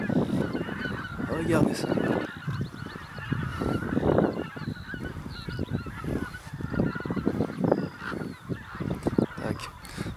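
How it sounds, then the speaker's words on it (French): A large flock of geese returning to Estonia honks loudly and continuously near the former Ülgase and Maardu phosphorite mines, calls overlapping in a noisy chorus while someone speaks briefly. "Ah, les oies nous accueillent presque sur ce lieu."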